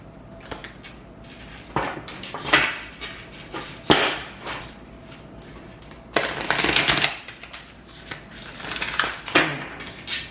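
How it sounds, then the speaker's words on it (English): Stiff tarot cards being shuffled by hand in bursts of riffling and clattering slaps, close and moderately loud, with short pauses between shuffles and no talking. "One more shuffle."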